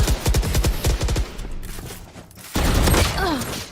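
Rapid pistol gunfire in the video game Valorant comes in fast bursts of sharp, loud shots with a ringing mechanical tail, then a brief lull before another dense volley with game effects.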